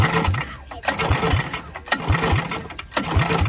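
A 270cc Stage 2 go-kart engine is cranked over and over, giving loud, close, sputtering bursts in an uneven rhythm that never settle into a steady idle, with people talking in between.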